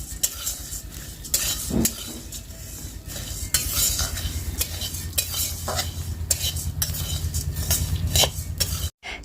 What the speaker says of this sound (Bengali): হলুদ দিয়ে তারপরে চিরাটা ভেজে নিই